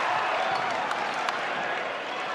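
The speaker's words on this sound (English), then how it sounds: "a hometown crowd really loving their action from their homegrown players right now" A hometown basketball crowd at an MPBL regular-season game between Marikina and Pangasinan applauds steadily, a dense, sustained wash of clapping and cheering filling the arena throughout.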